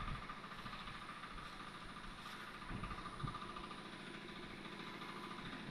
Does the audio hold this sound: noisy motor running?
yes